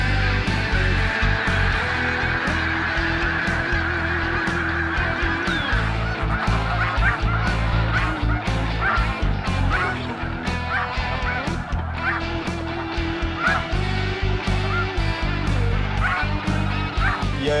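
A large flock of snow geese feeds in a partly unharvested corn field and honks constantly, with many overlapping calls close by that stay loud and busy throughout.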